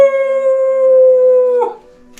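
During a werewolf role-playing game a player gives a long, loud, sustained wolf howl, a voice imitating a wolf that holds a steady pitch, then breaks off into a short rough trailing sound.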